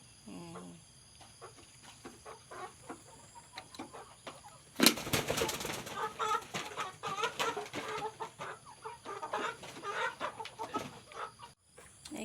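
Chickens cluck and chatter nearby, including young black and white birds, while a young rooster attempts a rough, scratchy crow; a burst of wing flapping briefly rises midway.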